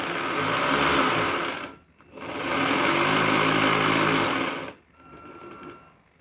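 A 15-year-old remote-controlled German Type VII submarine model with its motor running on throttle: a steady, buzzy electric whine in two sustained bursts with a short dip between, then a quieter, thinner hum at the end.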